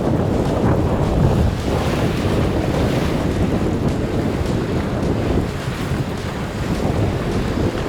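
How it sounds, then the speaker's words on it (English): Strong wind gusts across a warm beach in Zadar, Croatia, a loud, steady roar with rumbling wind buffeting the microphone and surf washing beneath it, with no voices. "It's quite windy, as you can see."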